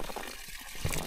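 Water from a spring splashes and trickles briefly as it is collected, a close, soft liquid rush with no talking.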